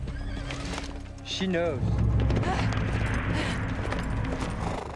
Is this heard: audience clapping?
no